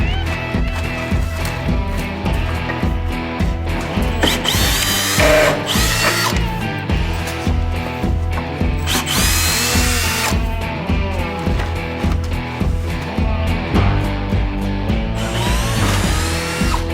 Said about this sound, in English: You're going to need a cordless drill with a T25 Torx drill bit to dismantle the crate.